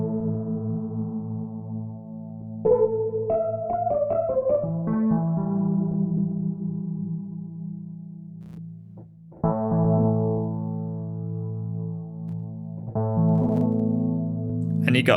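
A Wurlitzer electric piano modelled in Arturia's Wurli V plays sustained chords and short melodic runs through a tri-chorus effect, giving a thick, warbling shimmer; the notes ring clearly and alone, with no talking.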